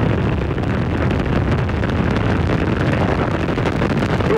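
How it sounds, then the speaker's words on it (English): Space Shuttle Endeavour's night liftoff on STS-89 from the launch pad sounds as a constant, heavy, broadband roar and crackling rumble, loud and unbroken throughout with no voices over it. "We have booster ignition and liftoff of the Space Shuttle Endeavour"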